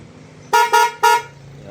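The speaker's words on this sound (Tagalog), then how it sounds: "Then loud horn." Aftermarket loud horn fitted to a Yamaha NMAX V2 scooter blares three quick, brassy honks, the first two nearly joined and the third after a short gap, over a low idling engine.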